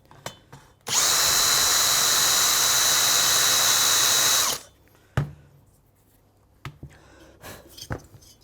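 A Moto Guzzi Le Mans valve seat cutter spins up for a few seconds in a loud, steady high-pitched whir while lightly polishing a valve seat, then stops, followed by faint clicks and handling knocks.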